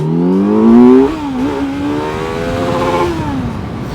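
A Kawasaki Z900 motorcycle in sport mode accelerates hard, its loud close engine note climbing steeply, dropping at a gear change, then rising again in a strong sustained pull.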